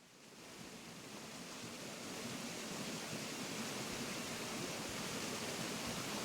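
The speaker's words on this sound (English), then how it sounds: "Let's tastefully fade in the really loud waterfall effects." A loud, continuous rush of a waterfall sound effect from Animal Crossing that swells in over the first couple of seconds, then roars steadily on its own.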